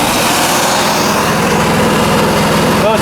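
A generator engine runs at about 2400 RPM, a loud, steady drone close by with a constant throbbing rhythm and no pauses.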